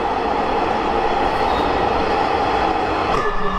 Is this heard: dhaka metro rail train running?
yes